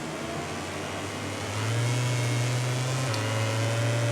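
Racing motorcycle engines in the MotoGP 18 video game, Aprilia and Ducati bikes dueling, a steady loud mid-pitched engine drone that rises in pitch and intensity partway through as the bikes accelerate, with no talk.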